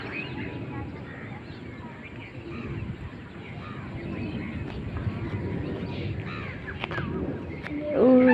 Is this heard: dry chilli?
no